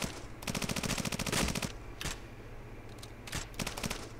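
Rapid automatic gunfire from a Ghost Recon video game, a dense burst of about a second followed by a few sharper isolated shots, loud and close with no talk over it.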